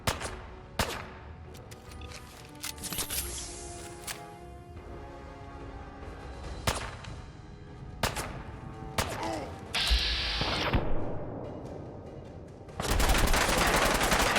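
Gunfire in the video game Fallout 4, a string of sharp separate shots and bursts spread through the scene, some loud and close, with a dense rattling volley near the end.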